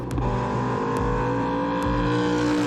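A TVR Griffith with a big Cosworth-tuned V8 revving hard, loud and close, with a rich rising and falling engine note and a few sharp blips across a short burst.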